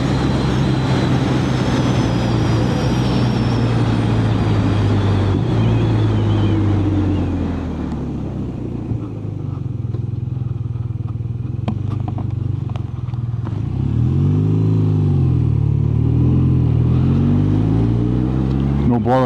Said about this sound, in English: pulling away there and second gear into third, into fourth, just on the torque band